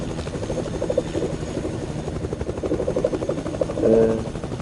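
A helicopter flies nearby with a steady rotor drone and buzz, holding at moderate level throughout and briefly swelling near the end.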